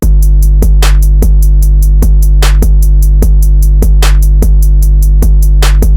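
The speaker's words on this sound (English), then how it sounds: "Altogether, the drums sound like this." Loud, punchy programmed drum loop in a trap-style beat, with heavy bass kicks, snares and layered claps on a steady rhythm and fast ticking hi-hats running throughout, with no voices.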